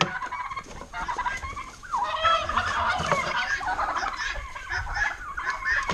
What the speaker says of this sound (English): Leave them turkeys alone.